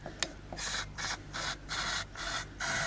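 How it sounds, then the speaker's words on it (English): Several short hissing bursts from an aerosol can of carburetor cleaner sprayed on a Honda lawnmower carburetor, about five in a row, close by, with a couple of clicks before them. "I've got a tiny bit of carb spray here."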